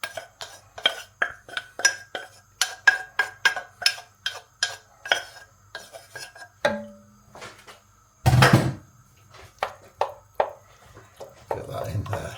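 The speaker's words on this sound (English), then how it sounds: "and I give it a stir" Mulligatawny soup with rice being stirred in a pot, a run of close, regular spoon clinks and scrapes against the metal, a short pause, then a wet burst and more clinking stirs.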